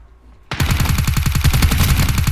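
Rapid MP5 submachine gun fire in the shooter game Ring of Elysium, a quiet half-second and then a loud continuous burst of about fifteen evenly spaced shots, close and alone.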